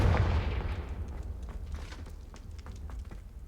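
The Confringo fire spell in Hogwarts Legacy lands as a deep booming burst that decays into a crackling, rumbling tail, loud at first then fading.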